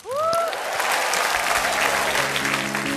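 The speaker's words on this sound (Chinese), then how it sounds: "来，掌声欢迎。" A studio audience on a Chinese TV dating show breaks into loud, sustained applause to welcome a male contestant about to sing, with a brief rising whistle-like tone at the start.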